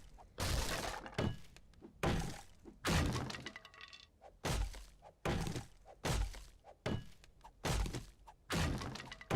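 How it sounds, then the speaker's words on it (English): Floor blocks in 7 Days to Die are smashed in a rapid series of loud crunching, cracking impacts, about a dozen hits in uneven bursts with brief gaps between them. "I like to take out the floor here because it's faster to get in there"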